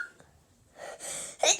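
A single sharp sneeze bursts out near the end, preceded by a quick inhaling build-up and heard alone in a quiet room.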